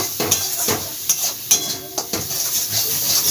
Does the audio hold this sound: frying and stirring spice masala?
yes